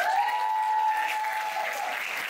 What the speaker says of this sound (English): Another round of applause for Dr. Klapper.